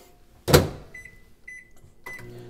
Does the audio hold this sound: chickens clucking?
no